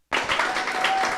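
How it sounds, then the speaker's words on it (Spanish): Church congregation applauding during a Christian sermon, steady sustained clapping from a large crowd that starts abruptly and continues at full volume throughout. "Un aplauso al Señor"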